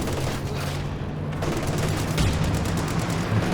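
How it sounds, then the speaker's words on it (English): A .50 cal machine gun rattles in Company of Heroes 2, a continuous stream of rapid shots amid dense battlefield noise and distant booms, loud and steady throughout. "Steal attempt on the 50 cal."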